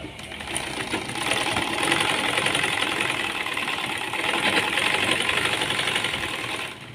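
A sewing machine stitches the seam of a Punjabi dress pant, a fast continuous mechanical whir and rattle close by that swells and eases slightly in speed over several seconds, with no talking.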